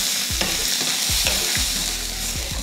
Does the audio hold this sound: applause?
no